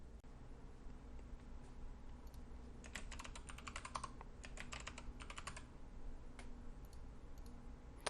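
Rapid bursts of key clicks from a computer keyboard as login credentials are typed, fairly quiet and close over a steady low room hum, with short pauses between runs of keystrokes.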